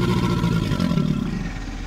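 An American alligator's mating bellow: a deep, rumbling low-pitched bellow, steady and loud throughout, with a rough vibrating texture and no speech.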